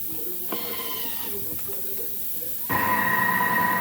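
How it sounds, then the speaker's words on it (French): A Thermomix food processor kneading cookie dough with orange blossom water, giving a steady whirring hum and hiss that grows louder and denser partway through, close up with no talk. "Et je vais pétrir pendant 1 minute. Après, moi, c'est le Thermomix."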